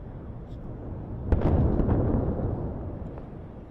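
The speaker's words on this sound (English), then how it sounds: "That was definitely a jet dropping its payload." A bomb dropped by a jet explodes during wartime in Beirut, Lebanon: a single heavy boom about a third of the way in, followed by a rolling rumble that slowly fades against steady outdoor background noise.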